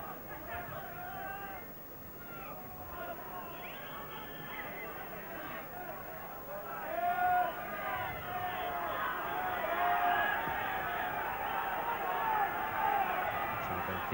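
Football stadium crowd at a Derry City vs Benfica European Cup quarter-final, 1989-90, a steady roaring hubbub of massed voices that swells louder toward the end, with no commentary heard.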